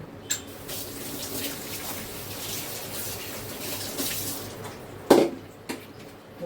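Water runs steadily from a tap while goat trotters are rinsed under it, with a few soft knocks and one sharper clatter near the end.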